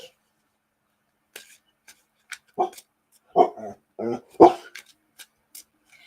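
A dog gives a handful of short, sharp barks and yips in close, quiet surroundings, spaced irregularly with silent gaps between them.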